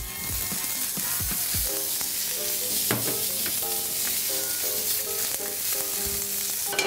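Carrots sautéing in olive oil in a pan give a continuous close sizzle, with light clinks and scrapes of stirring over the frying, and no talk.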